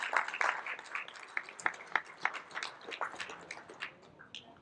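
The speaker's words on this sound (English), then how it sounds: "We have Jaskaran Singh Malhotra sir. Please, a big round of applause." Applause at a crypto community meetup in Indore for a guest speaker, distinct hand claps at first, thinning into sparse, fading claps toward the end.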